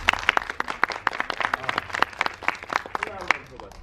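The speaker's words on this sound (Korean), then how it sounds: "박수 한번 쳐주십시오." Audience applause at a post-screening talk with viewers of the film 'Last Home' at Megabox COEX in Seoul: steady, moderately loud clapping throughout, with a voice talking over it.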